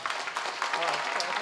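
Audience clapping at a kirtan religious gathering, a dense, steady patter of many hands mixed with people talking over it.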